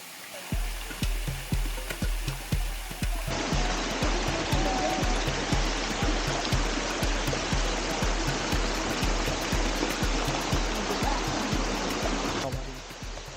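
A mountain stream at the foot of Mt Tanawan in Bulacan flows as a steady, full rushing wash. Low rhythmic thumps run beneath it throughout, and the sound eases slightly near the end.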